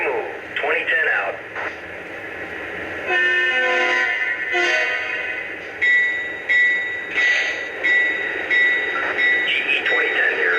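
A Lionel GE Evolution hybrid model locomotive's onboard sound system plays crew radio chatter while the train moves, with brief horn toots in the middle and a steady rumbling bed beneath the voices.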